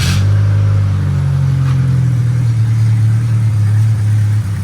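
An old car engine running on its own fuel system, a loud, close, steady low rumble that holds at idle for several seconds without pause.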